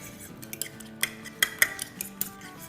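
A spoon clinking and scraping against a bowl while hot sauce and crushed garlic are stirred together, several sharp metallic taps in an uneven rhythm, close and alone.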